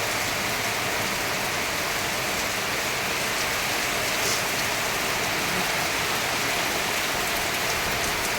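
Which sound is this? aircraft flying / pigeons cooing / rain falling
rain falling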